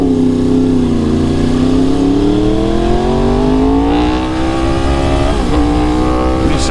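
A motorcycle engine roars loud and near as the bike rides through Houston traffic, lane splitting, its pitch rising and falling steadily with throttle changes and no voices.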